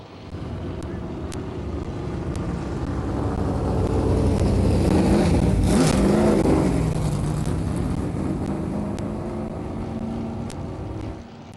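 Open modified race cars at Midvale Speedway roar past, the engine noise swelling to a loud peak mid-pass and fading again, with wind buffeting the microphone throughout.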